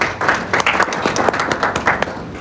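A modest round of applause from an audience at a TVET college session, honoring a presenter on student support services; individual claps stand out in an uneven, moderately loud patter lasting a couple of seconds.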